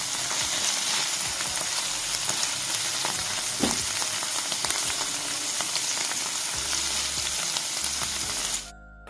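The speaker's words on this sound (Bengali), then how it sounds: "এরকমভাবেই উল্টে পাল্টে আমি পনিরগুলোকে ভেজে নেব" Paneer pieces frying on a tawa while being turned over, a constant near sizzle broken by occasional scrapes and taps of the turner, ending abruptly in near silence.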